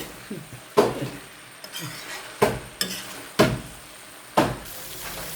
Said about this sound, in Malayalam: നമുക്ക് ഇളക്കി നോക്കാം.